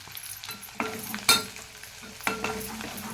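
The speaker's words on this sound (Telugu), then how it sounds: "ఇది బాగా ఇలాగా వేగాలి. ఈ ఆయిల్లోనే వేసుకున్నాం." Ingredients fry in oil in a pan, a steady sizzle broken by several clinks and scrapes of a spoon stirring against the metal.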